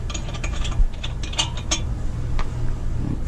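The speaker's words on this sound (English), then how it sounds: "Okay, undo your lug nuts." A ratchet loosens the lug nuts on a 2013 Chevy Equinox wheel during a brake pad job, a close, fairly loud run of quick metallic clicks in uneven bursts.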